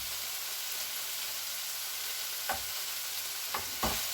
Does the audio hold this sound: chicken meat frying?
yes